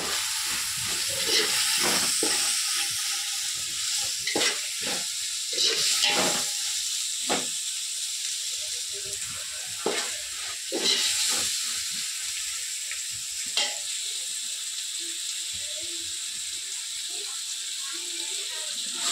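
Fresh paneer fries in oil with turmeric and salt, giving a low, continuous hiss and sizzle. Irregular spatula scrapes and clicks break through it, close by.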